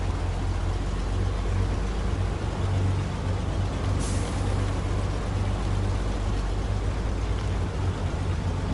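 Heavy off-road truck engine drones steadily in the SnowRunner game, with a brief hiss of air brakes releasing partway through; no voices.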